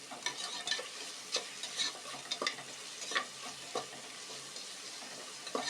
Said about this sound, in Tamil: வெங்காயம் நல்லா வதங்கி வரணும்.